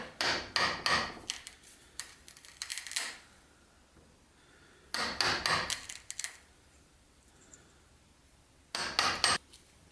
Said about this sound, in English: The inner one, I like to use a hammer on.